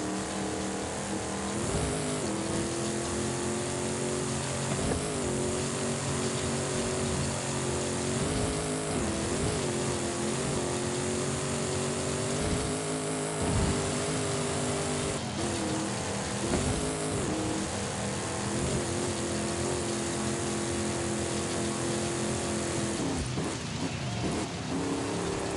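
A 4x4 car engine in Forza Horizon 5 drones steadily and loudly throughout, with small shifts in revs as the vehicle drives on, and no talking.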